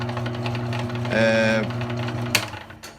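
An electric grommet, snap, button and rivet setting machine runs with a steady motorized hum, swelling into a louder harmonic whir for about half a second midway, with a sharp click near the end.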